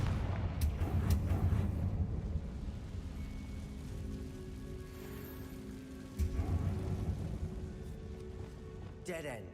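A Confringo fire spell bursts in Hogwarts Legacy, a deep rumbling explosion that starts loud, swells again near the middle and rolls on in a long crackling, rain-like wash, with a voice speaking over it.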